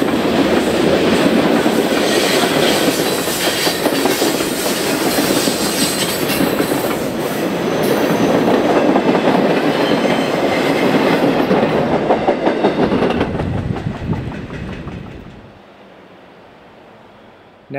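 A freight train led by a former Canadian Pacific EMD locomotive in tattered paint rumbles past close and loud, with wheel clatter and squeal, then fades abruptly into quiet near the end.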